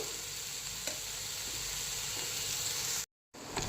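Bitter gourd frying on a low flame, a dense, continuous close-up sizzle and hiss with faint stirring knocks, briefly cut to silence near the end before resuming, no one speaking.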